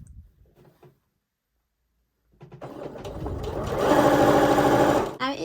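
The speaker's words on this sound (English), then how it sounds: "Now we are going to stitch all the way around the edge at 5 millimeters." A sewing machine stitches around a blouse neckline edge, starting after a quiet pause with a short handling rustle, then running fast and steady, close and loud, before easing off at the end.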